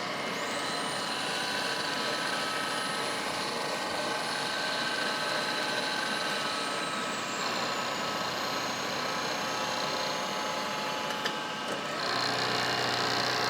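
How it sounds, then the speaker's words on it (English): A vertical milling machine takes a heavy cut in soft aluminum, giving a steady, loud, continuous machining whine and drone with high tonal squeal that shifts partway through, running unbroken throughout. "Now you see I'm making a heavier cut on this one than I did on any of the other ones."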